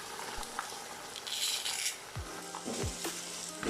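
Mutton with tomatoes, green chillies and spices gets stirred in a pan. A spoon scrapes and clinks against the metal in a few distinct strokes over a soft sizzle of frying.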